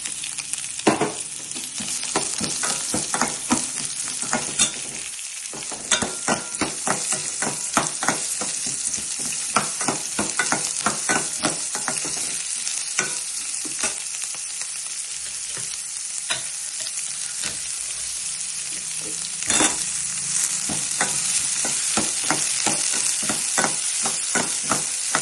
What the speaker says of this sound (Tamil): கருவேப்பிலை போட்டுட்டு வெங்காயம் போட்டுக்கலாம்.